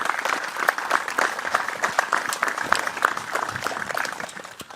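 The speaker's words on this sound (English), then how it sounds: "Can we give them a round of applause?" An audience at a Field Day talk breaks into a round of applause, dense irregular clapping with crisp individual claps standing out, fairly close and easing slightly toward the end.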